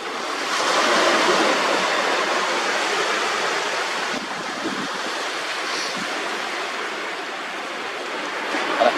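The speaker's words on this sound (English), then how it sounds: "right here we've got the water coming in behind me" Water washing in around a sandbank where a boat went over a river curve, a steady broadband rush of moving water close by, with wind noise and no voices.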